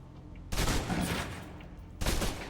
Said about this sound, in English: Still using cover, take some shots at the target.